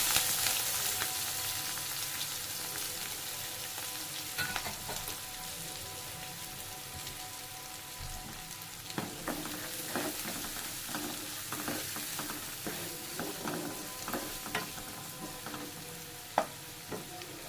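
Onions fry in hot oil in a pan with star anise and a bay leaf for a restaurant-style paneer masala curry, making a steady close sizzle with scattered sharp crackles and pops and no talking.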